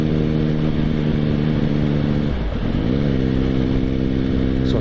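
A motorcycle engine hums loud and close while cruising on a road at around 50 mph, holding a steady drone with a brief dip and shift in pitch near the middle as the throttle eases.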